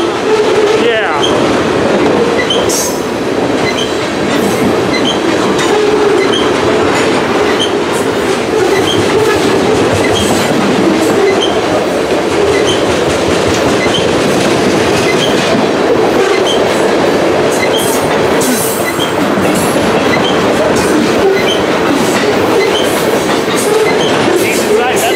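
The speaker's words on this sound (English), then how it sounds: "Loaded ethanol train" A loaded ethanol freight train rolls past in a steady, loud, continuous rumble with rhythmic clickety-clack of wheels over rail joints for the full duration, heard close up with faint voices in the background.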